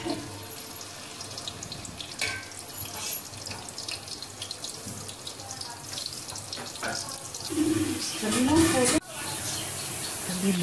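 Onions sizzle in oil in a large cooking pot while browning for a chicken yakhni pulao, a steady hiss that grows louder near the end, with the clink of stirring and a voice talking over it.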